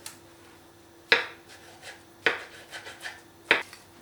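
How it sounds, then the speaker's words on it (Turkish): A knife chops eggplant into small pieces on a board: three sharp, well-spaced cuts roughly a second apart, each followed by softer scraping and rustling, close and clear. "Patlıcanlarımı minik minik doğruyorum."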